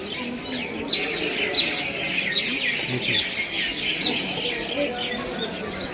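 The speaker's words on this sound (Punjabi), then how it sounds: "ਇੱਥੇ ਇਸ ਟਾਈਮ ਪੰਛੀ ਜਿਹੜੇ ਹੈ ਆਪਣਾ ਜਿਹੜੇ ਆਵਾਜ਼ ਕਰ ਰਹੇ ਨੇ" Many birds chirping and tweeting at once at a gurdwara, a busy chorus of overlapping calls with a faint murmur of people in the background.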